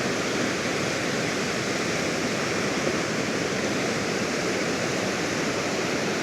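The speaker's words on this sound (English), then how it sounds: "Some serious power in that water." Bubbs Creek in the Sierra Nevada along the Pacific Crest Trail, a powerful mountain torrent, roars steadily and loudly up close as broadband rushing water, unbroken for the whole stretch with no voices.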